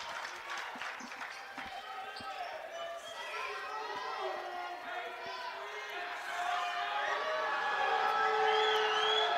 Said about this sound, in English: Crowd into it now.